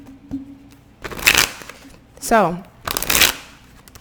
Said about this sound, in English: let me go ahead and pull a card here for you